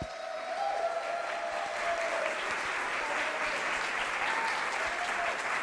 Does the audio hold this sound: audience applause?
yes